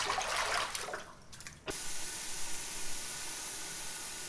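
Water pours steadily out of homebrew bottles being emptied ahead of sanitizing, a continuous close gurgling rush that briefly thins and dips before picking back up and running on without pause.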